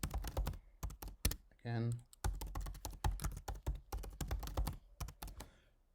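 Rapid clicking keystrokes on a MacBook keyboard as a password is typed, close and crisp in quick bursts, with a brief spoken word partway through.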